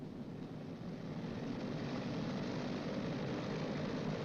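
A B-29 bomber's number 1 radial engine is throttled up to 2,000 RPM for a magneto check, giving a steady, loud, close propeller drone that swells slightly after the first second and holds, with no talking.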